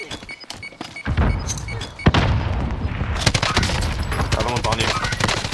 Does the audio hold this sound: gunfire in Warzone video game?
yes